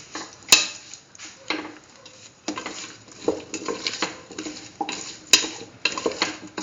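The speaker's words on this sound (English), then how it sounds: "Mix in the salt thoroughly into the mixture." Salt being stirred into a cauliflower and chayote stew in a pot, with soft scraping strokes and a couple of sharp metallic clinks of the utensil against the pot, quiet and close.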